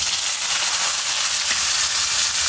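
Onion and panch phoron spices frying in hot oil, a loud, dense, unbroken sizzle heard close up with no talk.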